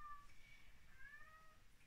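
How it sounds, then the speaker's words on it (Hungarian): A cat meows faintly in a few short, thin cries somewhere in the background, with no voice over it. "Ez a macska, de most így pont jól jön ide."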